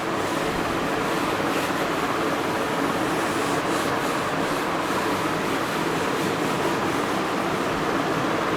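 Writing is rubbed off a board in one continuous, steady scrubbing sound, close and fairly loud, with no voices over it for the whole stretch.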